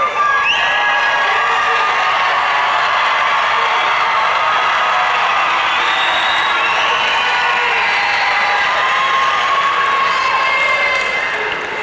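A large crowd at a high school graduation ceremony cheering and shouting continuously, loud and dense with scattered whoops and clapping throughout.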